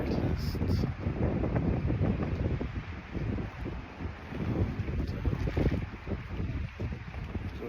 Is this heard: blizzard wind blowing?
yes